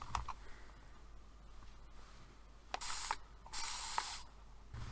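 SpectraFix fixative spray misting from a spray bottle, heard as two loud broadband hissing bursts of about half a second each, separated by a short pause, over quiet handling clicks and background noise.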